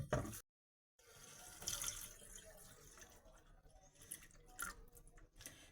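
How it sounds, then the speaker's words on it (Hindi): Hot water pours and splashes into a pot of mushroom kofta curry in short bursts, followed by faint bubbling and dripping, quiet and close. "जितनी तरी रखनी है उससे थोड़ा सा ज्यादा पानी रखेंगे"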